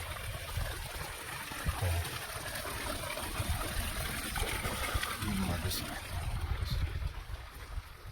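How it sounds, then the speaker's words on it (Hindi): A tubewell pumps water into farm fields, giving a steady, even rush of gushing water that runs unbroken throughout, fairly close and continuous with no break in the flow. "गर्मा गर्म पानी चालू कर दिया है खेड़ों में, ट्यूबवेल चालू कर दिया है"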